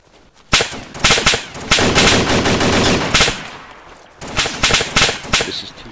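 Loud bursts of automatic gunfire in the video game DayZ, several long rattling volleys with short gaps, close and dominant with little else audible.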